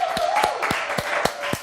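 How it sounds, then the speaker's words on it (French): Studio audience applause on a French comedy news show, a dense patter of clapping with sharp louder claps standing out, steady and fairly close, mixed with a faint tonal background. "Applaudissements."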